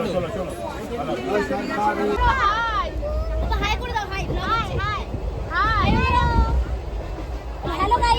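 Inside a moving passenger train, a steady low rumble of the carriages under lively chatter from passengers, with people talking close by throughout.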